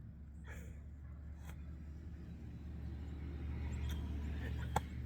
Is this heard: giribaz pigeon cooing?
no